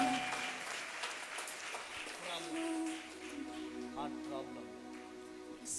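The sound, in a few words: congregation clapping hands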